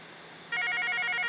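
A Mitel 5320 IP desk phone starts ringing partway through, its electronic warble trilling steadily and close after a brief quiet hum.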